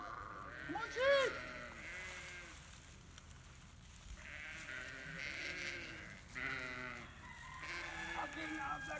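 Several sheep bleat repeatedly at close range outdoors at Christmas tree time, their calls overlapping with people shouting to call the flock.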